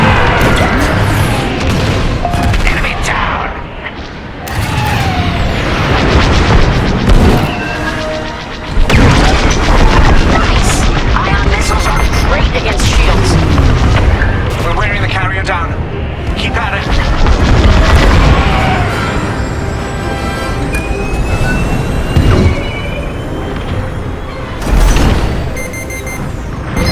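Loud, near-continuous explosions, booms and laser fire during a starfighter space battle in Star Wars Squadrons, with a destroyer going down and heavy rumbling blasts throughout, under occasional radio voices.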